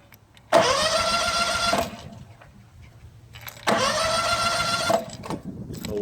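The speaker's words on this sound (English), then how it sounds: "So now I'll start it up, let you hear what it sounds like. It sounds like any other good Kawasaki." A John Deere WHP36A mower with a Kawasaki engine starts up twice, each time running briefly with a loud, even mechanical buzz before cutting out, with quiet gaps between the runs.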